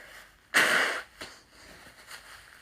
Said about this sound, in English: Sorry, I need to blow my nose.